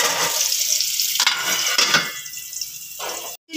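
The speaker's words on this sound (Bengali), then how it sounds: "3 মিনিট ঢাকা দিয়ে ভাজার ফলে আলুগুলো কিন্তু সুন্দর লাল হয়ে গেছে" Potatoes frying in a pan over a medium gas flame, a close crackling sizzle that swells and dips with scraping stirs and a pot clank, ending in a sudden cutoff.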